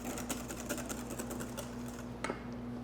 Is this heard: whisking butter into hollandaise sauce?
yes